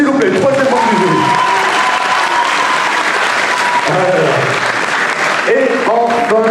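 An audience applauds a jury member being introduced at the Mang'Azur 2023 convention, with loud, sustained clapping and a voice talking over it throughout.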